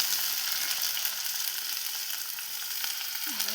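Okra fries in cooking oil with onion and garlic, a dense, steady sizzle close up throughout, with a faint scrape of stirring near the end.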